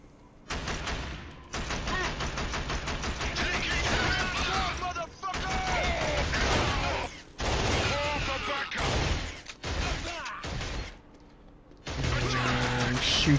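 Heavy gunfire in the shooter game Killzone during a missile base mission: long, loud bursts of rapid automatic fire and explosive cracks, broken by a few short pauses.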